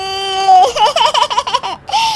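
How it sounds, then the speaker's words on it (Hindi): A baby cries loudly and close, a wavering wail broken into sobbing pulses that pauses briefly near the end before crying out again; no speech. "ये बच्चे के रोने की आवाज कहाँ से आ रही है?"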